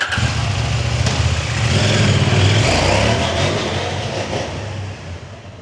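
A 2025 CFMOTO 800 MT-X adventure motorcycle with a 95 hp engine, heard on a ride as a loud, steady engine drone that swells under acceleration, then eases off toward the end, no voices.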